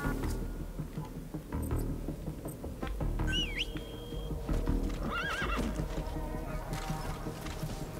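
A horse in the video game Metal Gear Solid V gives two clear, mid-distance whinnies, rising and wavering, over steady hoof clip-clops and game ambience.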